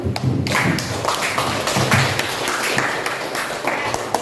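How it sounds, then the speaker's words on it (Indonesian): Classroom applause for a student's answer in a history lesson, a short burst of close, dense clapping and tapping that runs steadily for a few seconds with no talk. "Oke, kita beri aplaus dulu."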